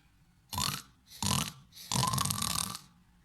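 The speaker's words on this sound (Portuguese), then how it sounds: "O porco faz." A pig gives three loud, rough grunts in a row, the last one longer and drawn out, each burst close and alone against near silence.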